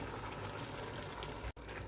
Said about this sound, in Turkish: Yine biraz da böyle haşlansın.